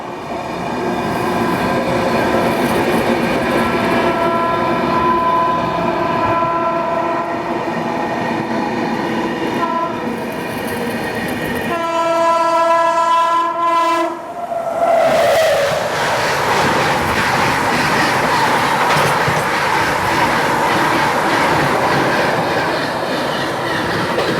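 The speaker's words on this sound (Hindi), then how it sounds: "वागली रेलवे स्टेशन के पास हमारी ट्रेन की क्रॉसिंग होने वाली है मुंबई गोंदिया विदर्भ एक्सप्रेस के साथ" Vidarbha Express train rolling on rails near Vaghli station, a steady loud rumble with rhythmic wheel clatter, then a sharp rush and shift in tone as another train passes alongside.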